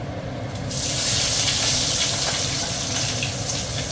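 Sliced onions drop into hot oil already holding whole spices (cinnamon, cloves, cardamom, cumin, bay leaf, dried chilli) for a mutton curry, setting off a sudden, loud, steady sizzle that holds without a break.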